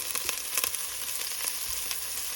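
Green beans with herbs and Montreal seasoning sauté in a pan, a bright close hiss of frying with light crackles and a few soft stirring taps.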